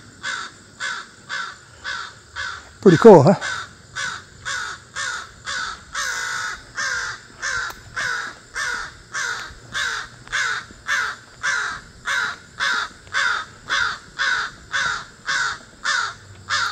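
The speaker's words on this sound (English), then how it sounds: "Check out that bird." A crow caws over and over in an even, regular rhythm, close and fairly loud, with one brief nearby rustle and someone speaking briefly near the end.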